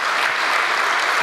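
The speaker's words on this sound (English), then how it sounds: "This one's worth an applause as well." An audience at an SAP keynote breaks into loud, sustained applause, a dense wash of many hands clapping at once from start to finish with no voices heard.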